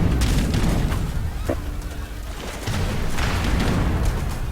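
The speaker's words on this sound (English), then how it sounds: "Cannons trying to take out the ships, while the ships try to take out the cannons." Cannons and warships trade fire in an Age of Empires match, a steady, dense rumble of booms and bursts that barely lets up. A brief tonal blip sits in the middle.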